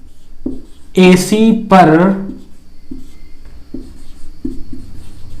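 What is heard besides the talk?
writing on a board while doing geometry construction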